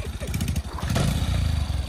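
Bajaj CT100 motorcycle engine running in gear during a power test, a steady low throbbing drone that rises slightly in the second half, close and loud with a faint voice under it.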